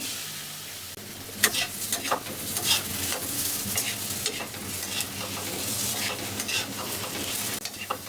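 Shrimp fry in a pan with turmeric and dried chili powder, giving a continuous crackling sizzle broken by scraping stirs of a spatula, close and fairly loud, with no talking.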